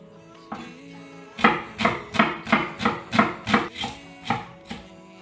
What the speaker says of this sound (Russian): Нарезаю я ее кубиком.